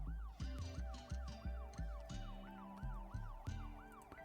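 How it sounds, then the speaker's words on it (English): An ambulance siren in the Cities Skylines 2 city-building game wails in a repeating rising-and-falling cycle, loud and clear with no talk over it. "Let's watch how this ambulance comes out."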